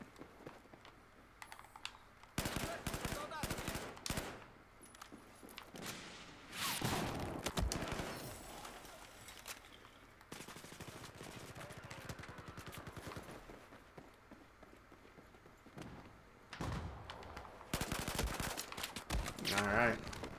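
Shotgun blasts from a first-person Xbox video game: sharp, loud broadband bursts come in irregular clusters across the stretch, amid continuous game noise.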